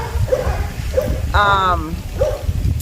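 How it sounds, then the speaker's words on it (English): Dogs at an animal workplace bark in the background: a few short, moderately distant barks spaced about half a second apart, with one longer drawn-out yelp in the middle. "So you hear the dogs barking in the back, so that's what that is."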